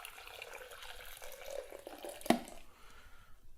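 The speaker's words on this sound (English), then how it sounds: "all you do is you pour the boiled water in" Boiled water pours steadily into coffee, a continuous liquid trickle that builds, ends in a brief splash-like clink, then fades into quiet.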